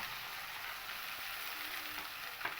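Dried red chillies and black cumin seeds fry in hot oil for a Bengali winter vegetable dish, giving a steady, soft, close sizzle with no talk.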